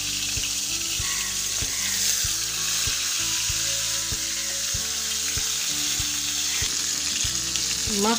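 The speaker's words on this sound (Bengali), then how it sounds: "তেল গরম হলে আমি একটা একটা করে মাছ ভেজে নেব।" Poa fish coated in turmeric and salt fry one by one in hot oil, a loud, dense, continuous sizzle close up, with a few faint clinks of a utensil against the pan.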